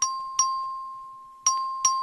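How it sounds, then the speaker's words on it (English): A voting bell rings in the Texas House of Representatives chamber, four bright ding strokes in two pairs, each with a long sustained ringing tone between them, loud and alone. "Clerk, ring the bell."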